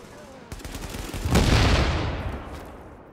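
Gunfire rattles in the video game The Division during a fight with a Rikers boss: rapid shots that swell into a loud, rumbling volley and then fade, with a voice talking underneath.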